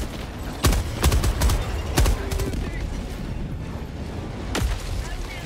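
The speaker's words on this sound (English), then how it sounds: "Calling in a mortar, so just be careful." Mortar shells land in Helldivers 2 as a handful of sharp booming blasts spread over a few seconds, a loud pair close together early and another later, with a player's voice in the mix.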